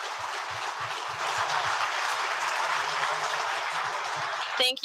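Sustained applause from an audience at a live show, thanking three panel speakers; a dense, steady wash of clapping that holds for several seconds before a brief sharper burst at the end.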